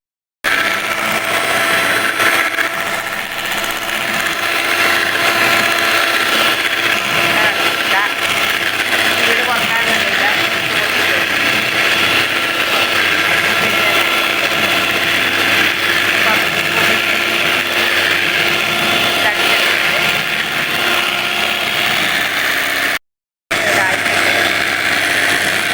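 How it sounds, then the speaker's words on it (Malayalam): Eggs being beaten for mutta pola, a Kerala egg cake, give a steady, loud mechanical whirring that runs unbroken for a long stretch, with one short gap near the end. "മുട്ട കടഞ്ഞെടുക്കട്ടെ."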